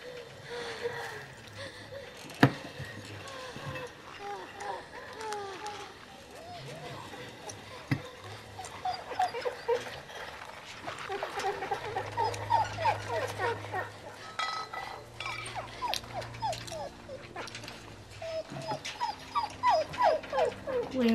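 A dog whimpers in The Walking Dead: Season 2, thin high whining cries rising and falling repeatedly amid game sounds, low drones, and occasional clinks, growing more frequent toward the end.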